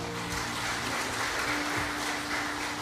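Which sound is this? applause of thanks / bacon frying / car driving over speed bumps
applause of thanks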